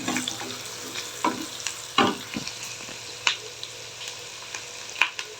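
A paste of ground tomato, green chili, ginger and coriander frying in a pan for a masala drumstick gravy, a steady soft sizzle broken by repeated sharp scrapes and clinks of a stirring spoon, close and alone.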